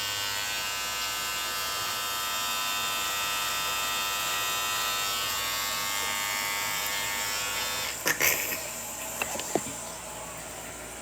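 Electric razor shaving a beard, a steady close buzz running continuously for about eight seconds before breaking into a few uneven bursts and scrapes near the end.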